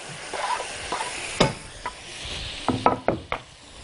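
Diced tomatoes hit a pan with garlic and basil, a soft sizzle under scattered spoon knocks and stirring clatter, close and intermittent, with no voices.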